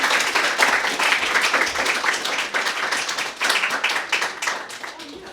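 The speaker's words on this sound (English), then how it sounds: "Everyone, please clap for first-time reader," A room of listeners at a reading event claps for a first-time reader, brisk and fairly close, with individual hand claps distinct within a lively, sustained burst.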